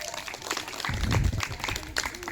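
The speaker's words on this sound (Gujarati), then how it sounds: "મિત માટે જોરદાર તાળીઓ થઈ જાય." A school audience at a Guru Vandana programme in Porbandar gives a student a short burst of clapping that swells briefly and fades within a couple of seconds.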